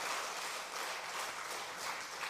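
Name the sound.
congregation applauding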